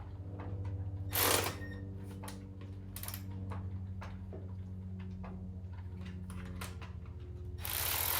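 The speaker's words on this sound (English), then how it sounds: "go ahead and run the nuts down and tighten those up" A ratchet tightens nuts onto bolts of a Scag SWZT 48-inch zero-turn mower, giving bursts of crisp clicking pawl strokes over a steady low hum, with a couple of louder rattling knocks.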